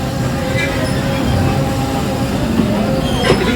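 A local commuter train runs on rails through the Khulna division of Bangladesh, giving a steady, loud rumble heard from on board with faint metallic squeals from the wheels near the end.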